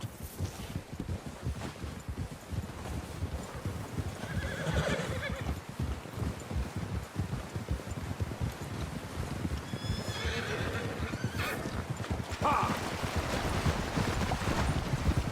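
Several horses in Red Dead Redemption II move along with continuous clip-clopping hooves, and whinnies break through a few times over wind-like rushing noise.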